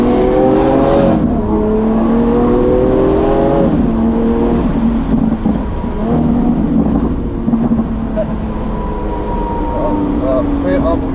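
A Lamborghini Aventador S with a V12 engine revving loudly close by, its pitch rising and falling in repeated sweeps, with a voice talking over parts of it.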